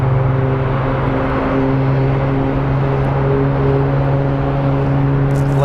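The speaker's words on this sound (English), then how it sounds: "Listen to those engines purr." Airliner jet engines at Phoenix Sky Harbor airport, a steady loud drone with low tonal hum held throughout, no talk over it.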